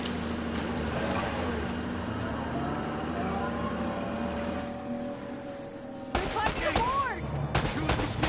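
A video game shootout starts with a steady engine-like drone and faint shots, then rapid gunfire bursts break out loudly toward the end.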